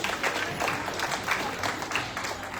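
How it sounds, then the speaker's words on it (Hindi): Audience clapping at a direct-selling recognition event in Delhi, a steady dense patter of many hands at moderate distance, continuous through the short stretch with no talk over it. "जोरदार तालियां के लिए"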